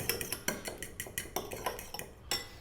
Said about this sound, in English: we're going to smooth out by whisking the curd or yogurt